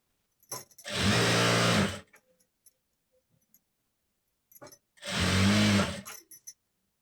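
A sewing machine runs in two steady whirring bursts of about a second each, separated by quiet, as it stitches a blouse sleeve lining onto the main fabric. It is close and clear, with faint clicks between the runs.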